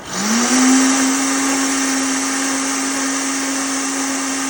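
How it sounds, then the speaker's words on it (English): A blender whirs loudly and evenly at high speed, blending spinach for crepe batter, after a brief rise in pitch as it starts up. "Spinach in the blender."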